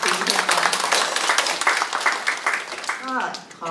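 Applause from an audience thanking the speakers at a conference, steady clapping carried under a voice on a microphone, fading near the end.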